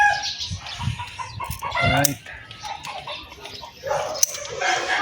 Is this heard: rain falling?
no